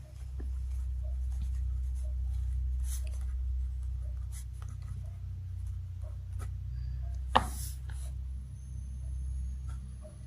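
Pen scratching on paper while writing math working, faint close strokes and taps over a low steady hum, with no talk.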